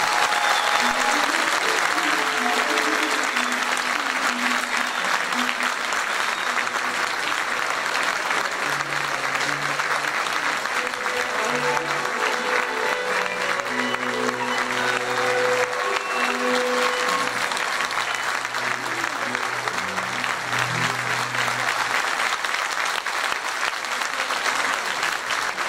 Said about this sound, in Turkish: Ama çok büyük alkışlıyorum.